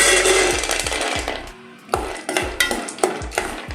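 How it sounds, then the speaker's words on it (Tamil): Pistachios frying in hot oil in a pan, a steady loud sizzle broken by a series of rhythmic stirring scrapes and knocks against the pan. No one speaks. "இது நல்லா ஃப்ரை ஆகட்டும்."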